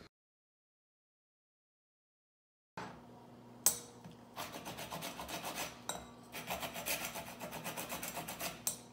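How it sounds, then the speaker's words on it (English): After a stretch of silence, lemon peel is rasped against a grater to make zest in fast, light scraping strokes, close and fairly quiet. "I'm going to start by getting lemon zest."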